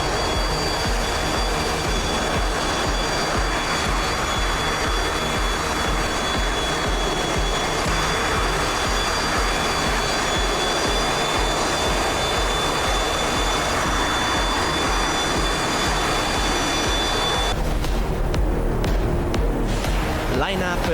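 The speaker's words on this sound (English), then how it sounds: "Here we go for this beautiful takeoff of the F-104 Starfighter S Nerone." An F-104 Starfighter jet in a flight simulator game rolls for takeoff with a loud, sustained engine roar and high whine, building steadily and then shifting near the end.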